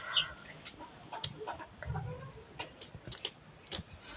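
Young tiger breed chicks with head feathers still growing cluck and chirp in short, scattered calls at moderate distance over a faint background hiss, with no talk.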